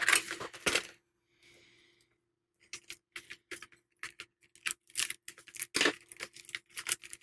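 Scissors cut into a pack of Pentel mechanical pencil lead up close, with sharp clicks, snips and plastic crinkling in irregular bursts.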